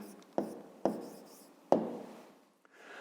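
A pen writes down the answer to a fifth-grade maths exercise in three quick, close scratching strokes separated by short pauses, with a quiet voice faintly present.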